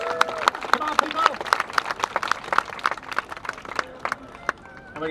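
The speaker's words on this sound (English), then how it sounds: "Give her a round of applause" A street-show crowd in Amsterdam claps and cheers after a performer's fire-torch throw, a dense run of sharp handclaps close by, thinning toward the end, with a voice calling out over it.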